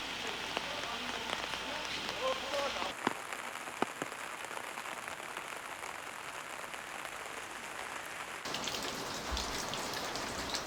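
Steady rain falls on a rural Korean farm, a continuous close hiss of drops with occasional louder splats and a few brief knocks, and no one speaks.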